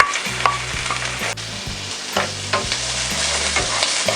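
Garlic and onion sautéing in a pan, a loud continuous sizzle broken by repeated scraping strokes of a utensil stirring them at a regular pace.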